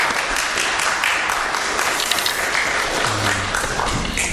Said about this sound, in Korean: 뜨거운 격려의 박수로 맞이하도록 하겠습니다.